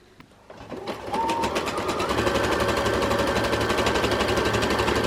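A domestic sewing machine runs a zigzag stitch on stretch fabric, starting softly and then rising to a steady, loud, rapid mechanical chatter that continues evenly to the end.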